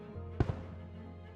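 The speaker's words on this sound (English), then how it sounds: "They turn into fireworks when it's over." Video game fireworks bursting: two quick pops close together, the first louder, over a low steady game backdrop.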